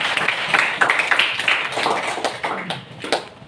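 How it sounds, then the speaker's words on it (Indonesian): A small group of people, likely a class, claps briefly in a room, an uneven scatter of hand claps, moderately loud and fairly close, with a few sharper individual claps. "Oke, tepuk tangan buat kita semua."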